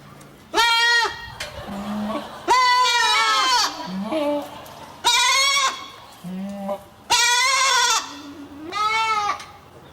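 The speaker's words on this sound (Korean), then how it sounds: "자, 염소 들어봅시다. 염소." Goat bleats ring out in several loud, wavering calls, spaced a second or two apart, each one near and distinct over a quiet farm background.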